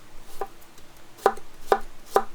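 A knife cuts a carrot into thin slices on a board with a chef or sushi knife, four crisp evenly spaced chops close up in a quiet room.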